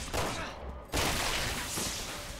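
Gunfire in the Resident Evil 6 video game, during a co-op session on professional difficulty, crackles in a dense, continuous burst of shots with a sharp renewed volley midway, close and steady throughout.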